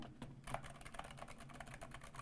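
Quick, steady clacking of low profile mechanical keyboard keys being typed on, close and fairly soft, with no voices over it.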